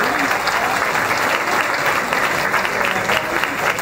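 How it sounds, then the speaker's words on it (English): Loud, sustained applause from the audience at a Tejano conjunto music Hall of Fame induction ceremony, a steady wash of many hands clapping with some crowd noise. "One more round of applause, please, for all our inductees and their families and all the musicians."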